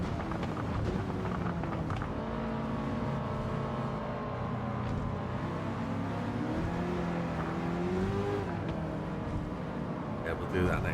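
A Toyota Hiace van with a swapped engine drones steadily at full power in the Gran Turismo 7 racing game during a Tokyo race, with its engine pitch slowly rising and falling while someone talks over it throughout.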